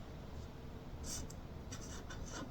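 A pencil scratches out the letter B on paper in a few short, soft strokes, quiet and close against a faint background hiss.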